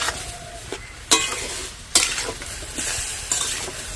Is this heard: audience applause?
no